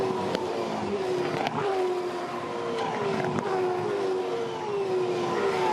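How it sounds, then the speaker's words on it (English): Supercars race car at the 2013 Auckland 400, heard onboard with the camera looking rearward: a loud, steady engine roar with rising and falling gear-change sweeps, plus brief sharp knocks, and no talk. "So we're looking rearward from Will Davison's car"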